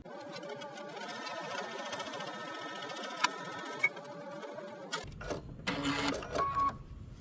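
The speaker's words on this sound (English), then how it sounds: "an edge stitch close to the edge of that fold there." A sewing machine runs an edge stitch along a fold on a halter dress bodice: a fast, even mechanical chatter for about five seconds, then stopping, followed by handling clicks and fabric rustle.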